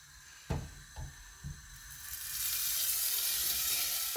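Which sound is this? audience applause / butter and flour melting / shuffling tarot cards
butter and flour melting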